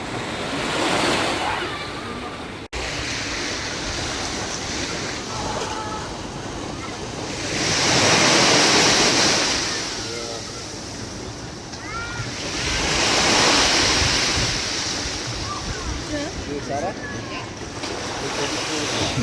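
Sea waves roll onto the shore with strong wind buffeting the microphone, the surf swelling and receding in slow surges every few seconds, loud and close throughout.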